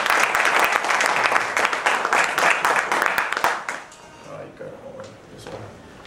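Applause welcoming maestro Nelson Cano Martínez at a talk on Casino rueda dance fills the room, dense and steady for several seconds before fading out, with faint voices after.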